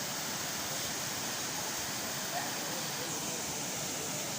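Gundicha Ghagi waterfall in Keonjhar during the dry winter season with low water flow, a steady broadband rush of falling water filling the scene continuously, even and unbroken throughout.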